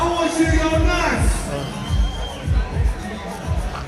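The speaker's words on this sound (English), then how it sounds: "I want you to go crazy and scream and clap" A live Karate Combat 55 fight audience roars as a dense crowd wash, with steady rhythmic thumps of clapping or stomping throughout and voices mixed into the din.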